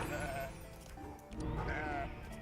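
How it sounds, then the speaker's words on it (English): A sheep monster bleats in the video game Across the Obelisk, two wavering bleats in quick succession over game music and sound effects, with someone talking faintly alongside. "I think we can kill the sheep straight away too."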